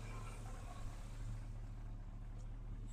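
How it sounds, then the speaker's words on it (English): A truck engine runs steadily in the open during winter prep, a constant low rumble with broadband noise, close and loud, no clear rise in pitch. "Give her a couple revs."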